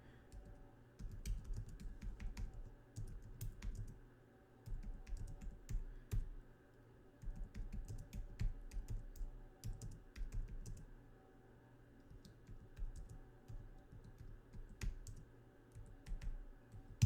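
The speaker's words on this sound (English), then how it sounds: "let's type it here." Quiet typing on a computer keyboard, steady light key clicks in uneven runs with short pauses, close but soft, no voices.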